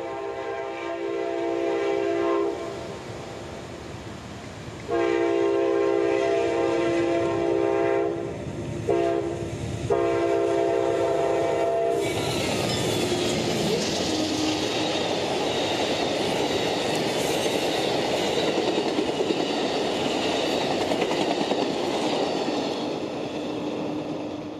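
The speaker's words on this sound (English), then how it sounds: "First up would be the northbound Silver Meteor, train 98, running track speed and right on time." Amtrak's Silver Meteor passenger train sounds its horn in several long blasts, then roars past at track speed with rumbling wheels and rattling cars, loud and close, on CSX's Carters Sub in central Florida.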